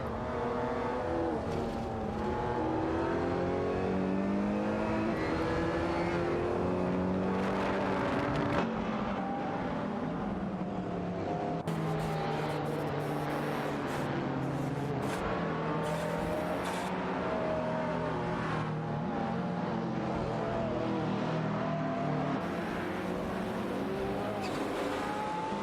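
Race cars in a video game, a BMW i8 closely tailing a Porsche 959 into a hairpin turn, engines droning and revving steadily throughout, with shifting pitches of several cars at close range.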